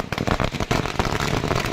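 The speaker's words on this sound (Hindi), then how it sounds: "आतिशबाजी हो रही है, जश्न मनाया जा रहा है" Fireworks and firecrackers burst at a festive celebration, a dense rapid string of sharp cracks and pops, loud and continuous throughout.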